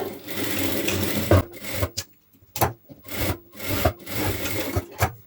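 A sewing machine stitches blouse cloth in several quick, loud bursts, each run of needle chatter broken by short pauses as the fabric is guided along.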